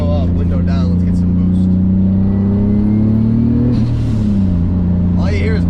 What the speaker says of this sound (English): All you hear is boost in this car.